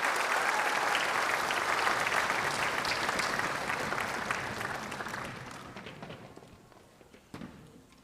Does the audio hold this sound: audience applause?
yes